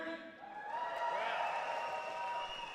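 An event crowd at the ALGS Championship 2023 esports tournament cheers and applauds, a steady wash of distant crowd noise with tonal stage sound over it, rising briefly and holding.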